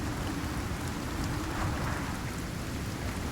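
Steady rain in the survival video game Icarus, a dense continuous hiss of falling drops with no breaks, evenly loud throughout and heard alone without voices.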